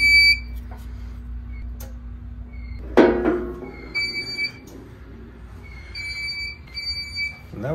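Thin electronic beeps repeat at intervals over a low hum inside an abandoned Regal cinema that still has power, with dead battery backups, broken by a sudden clattering thud midway through.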